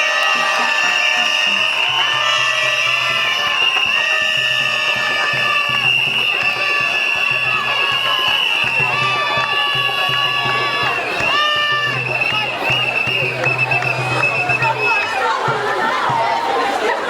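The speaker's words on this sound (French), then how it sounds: "On applaudit, s'il vous plaît, on applaudit, on applaudit." A large school audience at a debate ceremony keeps up loud cheering, shouting and chatter, children's voices and whoops layered over a steady crowd roar with some clapping, continuous and close.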